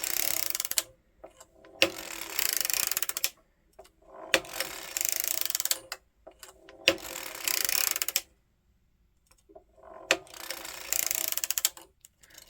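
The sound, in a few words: circular sock machine knitting socks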